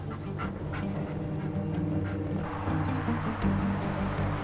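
Dog panting steadily inside a car, quick rhythmic breaths repeating over a low engine and road rumble, moderately close and fairly quiet.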